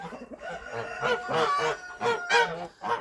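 Geese honk repeatedly in a backyard poultry yard near a chicken enclosure, a series of loud nasal calls in uneven bursts, fairly close, with no talking.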